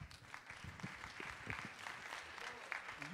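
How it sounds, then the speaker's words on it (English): A church congregation claps steadily throughout, a soft, distant wash of applause with a few murmuring voices underneath. "Let's give them a round of applause."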